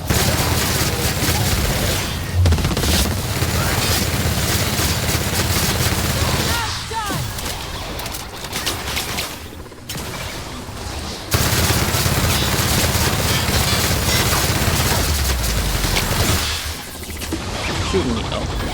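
Enemy gunfire rattles almost continuously in The Outer Worlds, loud and dense bursts with brief lulls near seven and sixteen seconds, mixed with game effects and a voice talking over it.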